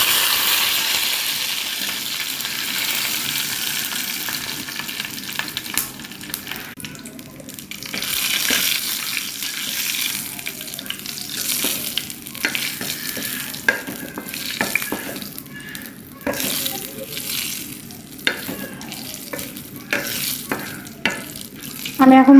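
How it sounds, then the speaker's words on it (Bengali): Dried red chilies fry in hot mustard oil in a frying pan, giving a crackling sizzle with stirring scrapes and clinks, loud at first and then more broken and intermittent, with no talking. "তেলটি গরম হওয়ার পরে আমি এতে শুকনো মরিচ দিয়ে দিব।"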